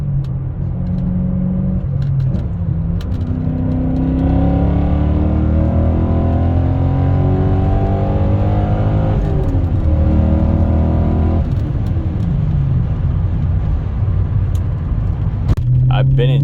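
A 2001 BMW E39 M5 engine hums and rises in pitch as it accelerates through gears, loud and steady from inside the cabin, with some talking.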